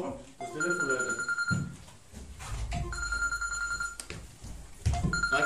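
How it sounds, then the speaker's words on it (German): A telephone bell rings in repeated bursts with short pauses between them, loud and close, while people talk over and between the rings. "Oh, das Telefon, Leute."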